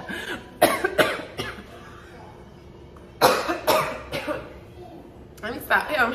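Several harsh coughs in short bursts, a pair near the start, a cluster in the middle and more at the end, close by with quiet gaps between.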